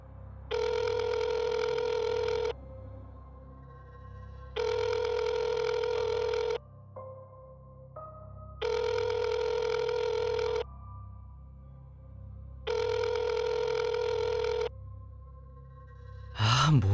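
A telephone ringback tone sounds while a call to a boarding-house owner goes unanswered, four long steady beeps separated by even pauses, clear and alone with a brief faint noise at the end.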